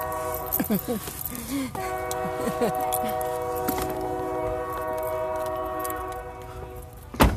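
A train passes close by, its horn sounding in long sustained blasts under light background noise, with a sharp bang near the end.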